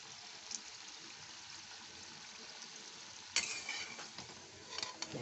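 Snacks frying in hot oil until crispy, a soft continuous sizzle with light bubbling, then a sharper burst of crackle and stirring near the end, fairly quiet and close.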